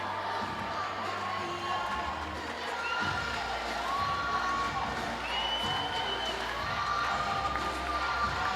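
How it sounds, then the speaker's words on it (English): Spectators cheer and shout along the pool during a para games swimming race, a dense, steady crowd roar with occasional whoops, and an announcer's voice is faintly mixed in. "The crowd, I'm sure, will get behind her."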